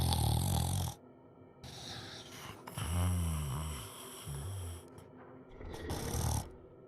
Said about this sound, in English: Some guy was snoring ultra loud.